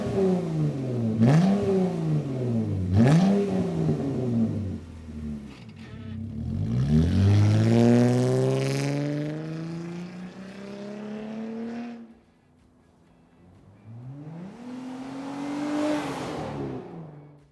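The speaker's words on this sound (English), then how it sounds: "this MRT dual exit exhaust on the back end of our 2016 Jeep Wrangler" A 2016 Jeep Wrangler fitted with an MRT dual exit exhaust revs repeatedly close by, with two quick blips, a long rising rev that falls away, a brief lull, then another rev.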